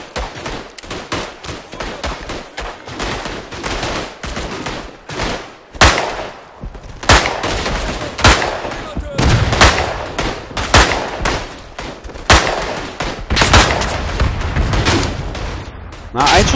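Gunfire in the WWI shooter game Tannenberg: repeated loud rifle shots and bursts of battlefield fire with booming impacts, dense and continuous throughout, with a voice talking intermittently underneath.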